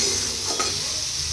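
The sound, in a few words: ginger, garlic and dry chilli paste stir-frying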